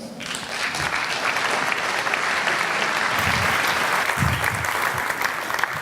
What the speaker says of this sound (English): I want a big applause for John Paul Flinthoff.